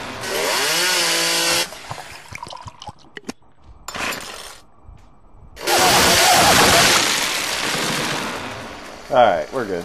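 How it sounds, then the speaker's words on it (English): A chainsaw in the video game 7 Days to Die (alpha 9.2) roars loudly through wood in two long buzzing bursts separated by quieter clattering thuds, then a brief rough revving at the end. "Life is so much better with a chainsaw."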